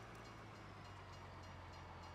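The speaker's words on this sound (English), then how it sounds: "we've got the train to deal with right here" A train rumbles past in the farming game Farming Simulator 19, a steady low drone with faint hiss held at an even level across the short stretch, with no voices.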